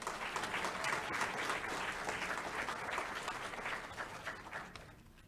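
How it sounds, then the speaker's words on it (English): Steady, fairly distant applause from a graduation audience at the UGA Griffin spring 2018 ceremony, a dense even wash of clapping that tapers slightly at the end. "Can we give Terry students another round of applause?"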